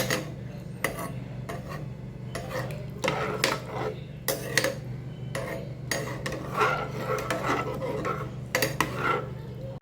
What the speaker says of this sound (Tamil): தண்ணி ஆட் பண்ணிவிட்டு ஒரு வாட்டி நல்லா மிக்ஸ் பண்ணிப்பேன்.